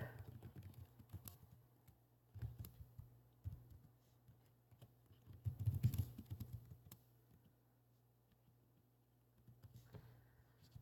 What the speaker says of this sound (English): Having a hard time with my keyboard.